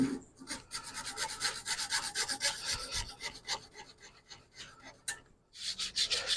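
A wooden clipboard piece being smoothed by hand so it fits a channel: close, steady rubbing and rasping strokes in a continuous run, with a short pause near the end before the scraping resumes.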